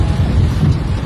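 Heavy rain in Jamaica pours down as a dense, steady roar with low rumbling wind-like noise, loud and close with no pause.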